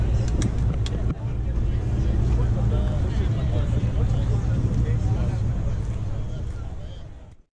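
A 1965-66 Ford Mustang fastback engine runs steadily at a car show, a loud continuous rumble close by with wind buffeting the microphone and voices in the background.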